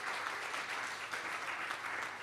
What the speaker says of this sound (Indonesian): Yang mau tepuk tangan yang meriah buat Tuhan deh.